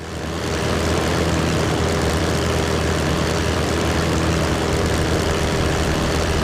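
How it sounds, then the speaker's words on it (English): A light propeller aircraft engine in a flight simulator drones steadily and loudly during a stall manoeuvre, with a constant low rumble and no break in tone. "See if we can get it to stall."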